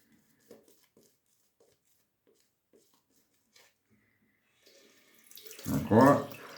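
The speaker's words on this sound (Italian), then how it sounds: "Ci devo aggiungere acqua." Water gushes loudly from a tap for about a second at the end, after a stretch of near silence broken only by faint scattered clicks and taps.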